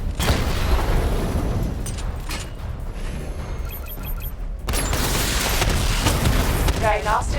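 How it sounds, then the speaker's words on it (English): Missile barrage explosions from the Batmobile in Batman Arkham Knight: loud booming blasts and bursts at the start, a quieter lull with a few mechanical blips, then another heavy explosive surge with crackling debris. "Charge up missile barrage to level 2 and destroy 4 active targets to complete diagnostic test."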